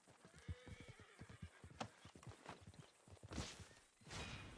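A horse in the Red Dead Redemption 2 video game whinnies amid clip-clopping hooves on the ground, with several whooshing movements and a louder burst near the end, all close and without speech.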